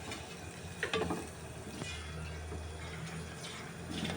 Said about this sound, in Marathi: कांदो हांव बरो भाजून घेतलें